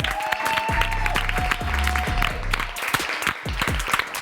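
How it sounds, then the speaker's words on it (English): Applause from a makeup-effects competition crew and audience at the close of a final challenge, steady clapping throughout with loud low thumps and a faint whistle-like tone over it, no talk. "Round of applause to you guys."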